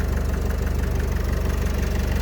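A 2013 Opel Vivaro passenger van with a 2.0-litre 115 hp diesel idles steadily up close, a smooth, even low throb with a regular pulsing rhythm and no voices.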